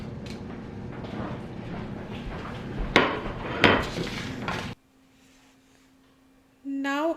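Coriander seeds dry roasting in a pan for Bengali ghugni, a steady close rattle and scrape of seeds stirred against the metal with a few sharper knocks, then quiet before a brief tone at the end.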